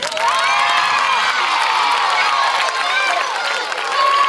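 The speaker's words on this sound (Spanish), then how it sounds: "Fuerte aplauso para Sisinio." Schoolchildren at a school in Tudela, during a visit from Osasuna football club, cheer and clap for a player, their high-pitched shouts and whoops ringing loud and continuous over a steady bed of applause.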